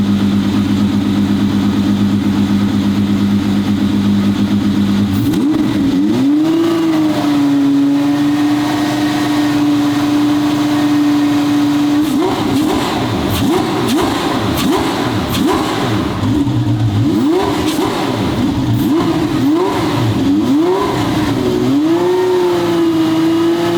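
A twin-turbo Ferrari V12 idles loudly, then is revved hard in repeated sharp bursts that rise and fall in pitch, close and aggressive, settling between blips with a rough, throaty roar.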